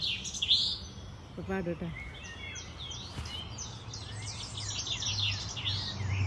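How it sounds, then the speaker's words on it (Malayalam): A koel sings a series of bright, varied chirps and whistles that carry through the clip, with a brief rapid rattling call near the start and a low background hum. "ഒരു കിളി പാട്ട് പറഞ്ഞത് കേട്ടാ"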